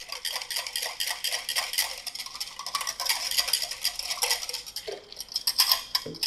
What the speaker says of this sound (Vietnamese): Mình lấy miếng nước trà sữa mình khuấy